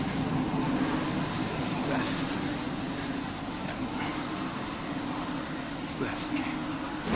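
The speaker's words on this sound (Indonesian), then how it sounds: "ini ada lokomotif dinas malam ini kereta api Jayabaya" Jayabaya passenger train locomotive 206-1369 standing at a station at night, giving a steady low engine rumble and hum that holds throughout under a wash of platform noise.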